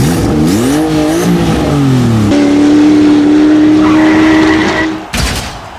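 Pull-back toy cars at 1:36 scale in a drag race, with loud whirring motor whines rising and falling in pitch, then a sudden clatter at the finish; no one speaks.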